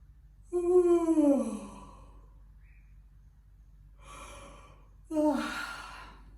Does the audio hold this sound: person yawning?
yes